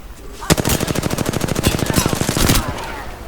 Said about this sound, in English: Enemy far off. Opening fire.